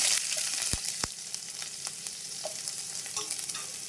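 Onions frying in hot oil with mustard seeds, a steady close sizzle with a few sharp pops and crackles near the start, carrying on without any talk.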